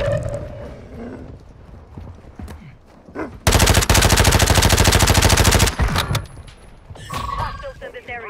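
Rapid sniper and automatic gunfire rings out on Ashika Island in Call of Duty, loud and close in one sustained burst mid-clip, with voice chat before and after it.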